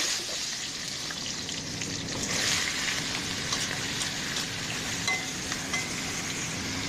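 Vegetables frying in a wok with panch phoron, a dense continuous sizzle heard up close with occasional stirring and faint clinks, no voices over it.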